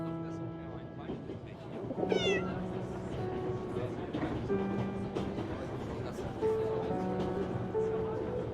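Cat meowing in the video game 11-11 Memories Retold, a few rising, pitched meows over a sustained musical score, with voices speaking nearby.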